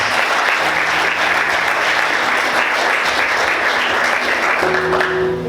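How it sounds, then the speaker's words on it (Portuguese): A church congregation applauds steadily and densely, a loud sustained wash of clapping hands that holds for several seconds before a faint tone rises at the end. "Vamos aplaudir o Senhor."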